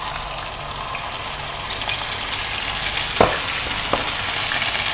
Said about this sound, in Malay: Kita masukkan rempah 4 sekawan ni. Kemudian kita masukkan bawang merah.